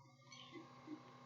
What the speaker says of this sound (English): you're gonna hear my cat purring, I think, occasionally